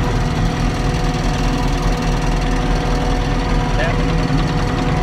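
Silage harvester engine idles with a deep, steady rumble and constant vibration, loud and close from inside the cab, with a voice talking over it.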